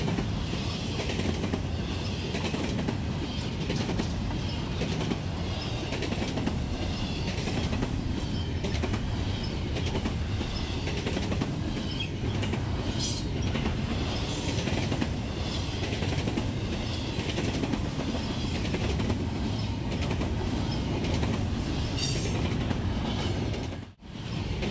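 A freight train rumbles past steadily on the rails, wheels clacking in a continuous rolling roar that holds nearly the whole time before cutting off abruptly.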